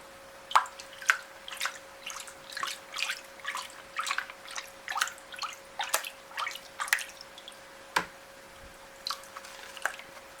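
Water sloshes and drips in a gold pan as heavy black sand is washed. Close, irregular wet splashes and squishy swirls repeat about every half second over a faint steady hum, with no voices.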